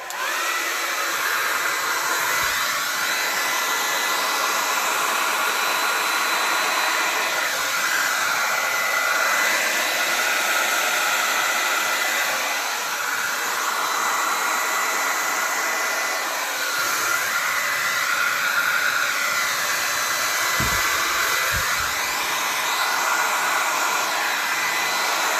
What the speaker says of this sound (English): The hairdryer is set on cool